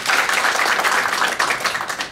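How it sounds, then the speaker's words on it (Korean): An audience at a labor union rally welcomes a late-arriving lawmaker with loud, dense applause, many hands clapping continuously and close by for the whole stretch. "큰 박수 환영해 주시기"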